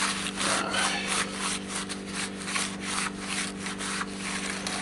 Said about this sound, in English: So I will just take a shop towel and what's left of my electronics cleaner